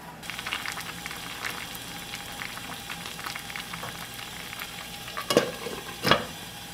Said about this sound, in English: you're going to bring it back down to a simmer